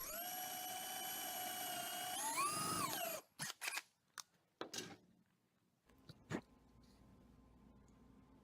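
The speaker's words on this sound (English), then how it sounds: "I drilled out the holes, so we had something to mount the Raspberry Pi to" A power drill bores mounting holes in a plastic plate for a Raspberry Pi, one whining run that rises in pitch and then winds down, followed by several short bursts and faint handling noises.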